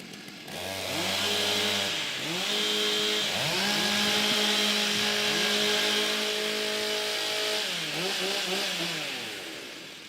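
Chainsaws revving and idling as competitors warm up their saws at a women's timbersports championship, loud and near, with engines rising and falling in overlapping bursts.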